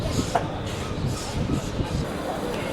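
Train 58501 pulls into Araku station with a low rolling rumble and rhythmic clanks of railcars, and a voice is heard talking over it.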